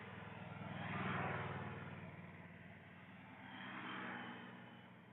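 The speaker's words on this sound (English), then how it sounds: "it's nice to hear the occasional car passing, honking a horn" Cars pass by outside on a nearby road, two soft swells of tire and engine noise rising and fading, faint and distant.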